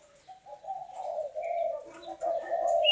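Spotted doves coo in a row of cages at a bird market, a soft repeated rising-and-falling call close by with faint chirps over it and no talk.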